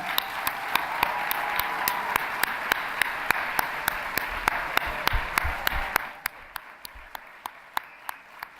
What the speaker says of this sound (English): A big, big applause for them.